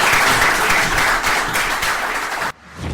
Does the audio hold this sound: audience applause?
yes